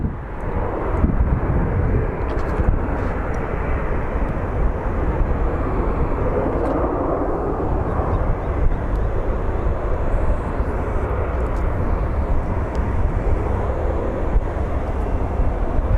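Airliner taking off at Phoenix Sky Harbor International Airport gives a loud, steady broadband jet roar that holds without a break, heard from nearby on the ground.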